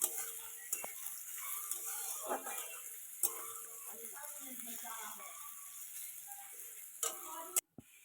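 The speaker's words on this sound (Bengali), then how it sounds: "রসুনটা একটু হালকা লাল লাল করে আমি ভেজে নেব প্রথমে" Crushed garlic fries in hot oil with whole cumin seeds in a home kitchen, giving a steady, close sizzling hiss broken by scattered pops and crackles across the whole stretch.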